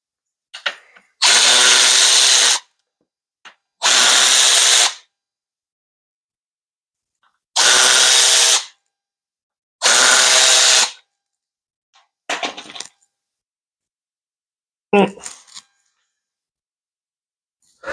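A power tool with a 7/16 socket removing the governor cover bolts on a TH400 transmission from a 1966 Impala, four loud whirring bursts of one to two seconds each with quiet gaps and faint metal clinks between.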